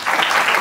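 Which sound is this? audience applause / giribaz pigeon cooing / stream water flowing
audience applause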